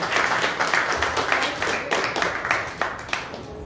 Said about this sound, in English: One more round of applause, please, for our Secretary of State.